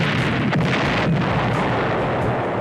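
Power plant explosion in the animated film Fritz the Cat: a dense, sustained roar of blast and rumbling debris, loud and continuous with no pauses, filling the whole moment without any voices.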